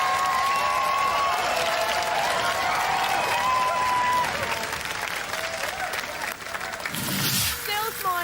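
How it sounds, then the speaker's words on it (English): Studio audience at the Robot Wars robot-combat show applauds Splinter with loud, sustained clapping and some cheering, while voices talk over it; the applause fades slightly near the end. "round of applause for Splinter!"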